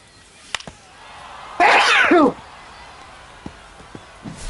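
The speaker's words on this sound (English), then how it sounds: "those were actually two very violent sneezes" Two sharp, violent sneezes burst out in quick succession, loud and close, amid quiet background with a few small clicks, during an MLB The Show 25 baseball game stream.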